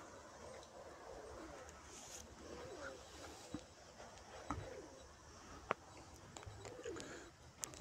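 Pigeons from a flock of around a thousand birds coo softly and faintly, with scattered small clicks and taps over a quiet background and no voices.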